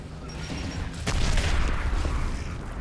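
A grenade goes off in the shooter Gears of War: a sharp blast followed by a rumbling, crackling tail that stays loud for a couple of seconds.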